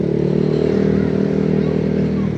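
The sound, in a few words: Honda PCX 160 motor scooter riding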